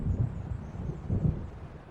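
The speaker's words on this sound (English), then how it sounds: "It seems there's a storm coming." Low rolling thunder from an approaching storm in the Alan Wake video game, rumbling in two deep swells under steady wind noise, with no talk.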